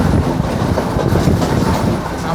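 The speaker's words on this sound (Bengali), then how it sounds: "ট্রেনটি অনেক স্পিডে যাচ্ছে" A train from Colombo to Mirissa runs at speed, its loud, continuous rumble and clattering wheels filling the whole stretch from close inside the carriage, with no talking.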